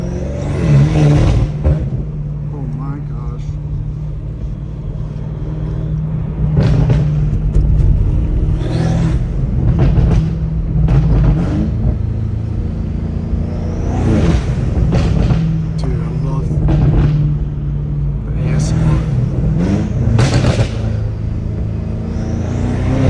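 A BMW M5 Competition rumbles close by while driving through Los Angeles, its exhaust popping and crackling in bursts between steady engine drone and occasional revs.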